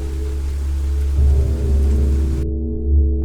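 Steady rain hisses in the video game Abscission, a loud even wash with low rumbling swells, cutting off abruptly to a quieter hum near the end.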